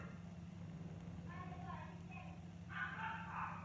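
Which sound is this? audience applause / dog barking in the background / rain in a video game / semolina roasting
dog barking in the background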